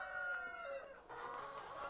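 Hens and roosters in a free-range coop of about 5,000 birds, with straw and rice-bran bedding and perches, make a steady, fairly close chorus of clucking with crowing rising through it and no talk.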